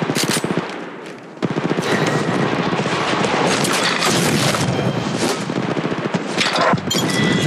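Automatic weapon fire in Apex Legends Mobile, loud sustained bursts of rapid shots with booming impacts and a short pause near the start.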